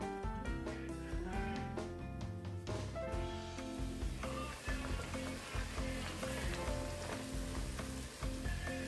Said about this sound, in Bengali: একটা করে নান দিয়ে ভেজে নেব